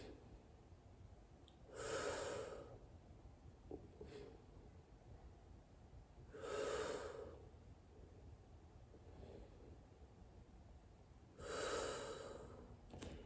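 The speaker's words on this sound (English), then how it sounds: "and breathe deep" Three slow, deep breaths during a yoga pose, close and soft, each a breathy whoosh spaced about four to five seconds apart, with quiet room stillness between them and no talking.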